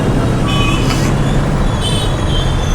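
Busy road traffic roars steadily and loudly, with a couple of short car or bus horn toots breaking through the continuous engine rumble.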